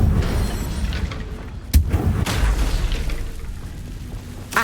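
A Confringo fire spell in the game Hogwarts Legacy bursts with a sharp booming blast, followed by further crackling impacts and a rumbling game soundscape, close and loud.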